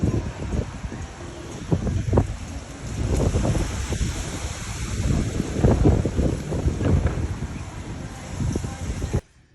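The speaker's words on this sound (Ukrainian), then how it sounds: "Просто шторм." Strong gusting wind buffets the microphone over the steady wash of rough sea during a storm on the coast at Makarska, Croatia, loud and continuous until it cuts off near the end.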